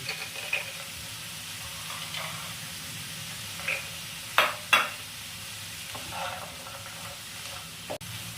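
Ash gourd, potatoes and pre-soaked chickpeas sautéing in a pan for a Bengali chal kumro curry, giving a low steady sizzle broken by a few sharp scraping stirs near the middle and end.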